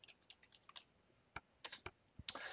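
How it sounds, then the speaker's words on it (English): Quiet, close typing on a computer keyboard in scattered bursts of light key clicks with irregular pauses, ending in a sudden brighter burst of noise. "I'm just going to start typing in, some of these here and see what kind of results we get"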